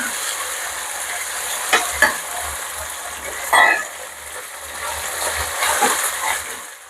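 Cooked field beans are tipped into a hot pan and stirred, giving a close scraping stir with a couple of sharp clinks and a low sizzle underneath, moderately loud with no voices.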